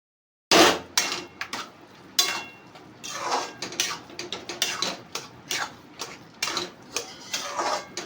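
A spoon scrapes and clinks against a pan as milk heats with roasted rajgira (amaranth) flour for a sweet sheera. The rhythmic metallic taps and scrapes are close and moderately loud, with no talking.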